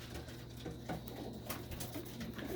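Several pigeons coo in low, rolling murmurs, soft and close, repeating irregularly over a quiet background hum with occasional faint rustling.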